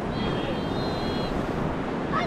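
Surf on a remote South Australian beach, a steady close wash of breaking waves mixed with wind buffeting the microphone, continuous and fairly loud.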